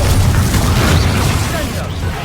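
A Confringo explosive spell goes off in the Hogwarts Legacy video game, a loud, dense burst with a heavy low rumble sustained through the whole moment amid busy combat sound effects, with a bit of voice mixed in.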